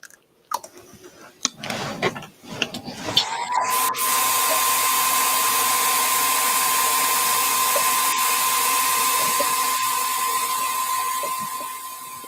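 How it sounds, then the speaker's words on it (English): A hair dryer blows steadily on freshly brushed lime chroma glaze, a loud constant whir with a thin high whine that starts after a few seconds of handling noise and runs unbroken to the end. "So I'm just going to quickly dry this with a dryer."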